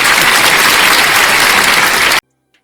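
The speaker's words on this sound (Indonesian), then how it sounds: "Tepuk tangan buat Bang Daman dan ini." Audience at a religious debate event breaks into loud, dense applause for a debater, a steady wall of clapping that cuts off abruptly, followed by near silence.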